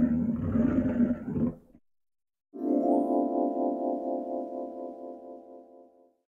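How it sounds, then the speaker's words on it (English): A lion gives a loud, close roar: a rough, raspy burst, a brief pause, then a long, sustained, resonant roar that slowly fades away. "A lion's roar sounds loud."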